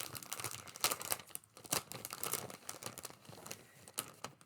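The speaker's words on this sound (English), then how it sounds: "And then more crinklings, as this is in a separate baggie." Continuous crinkling of a small plastic baggie holding cross-stitch trims such as ribbon and rickrack, close and fairly soft, with irregular crackly rustles throughout.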